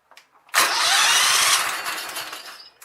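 Kohler Commander engine on a Sears Craftsman tractor with a suspected coil fault: a few faint clicks, then a loud sudden start into rough cranking and firing that runs about two seconds and fades, with no speech.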